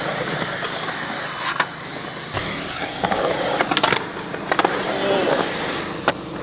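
Skateboard wheels roll steadily over pavement, with sharp clacks and scrapes as the board pops and lands a trick, followed by a few lighter knocks of the board nearby.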